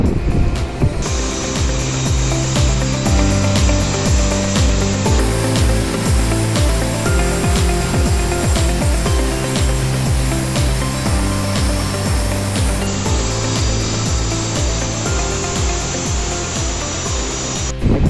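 A power saw slowly cuts through a porcelain tile countertop with a recessed edge, giving a continuous, loud grinding whine with a steady hiss that stays even throughout, with no voices.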